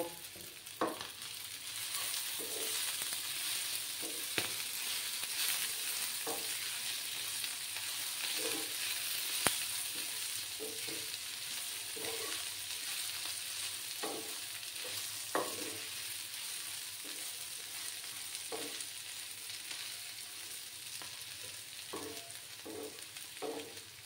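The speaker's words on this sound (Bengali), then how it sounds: "এবার আমি ধনেপাতা কুচি দিলাম, দিয়ে এটা মিক্স করে নেব।" Crispy dry shrimp with chopped coriander is stirred in a pan, a soft low sizzle broken by repeated spatula scrapes and taps at irregular intervals, with no voices.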